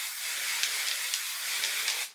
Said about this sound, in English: Spraying it again.